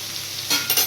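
Green chillies and onion frying in oil in a home kitchen pan, a brief steady sizzle with a couple of louder stirring bursts near the end, no voices.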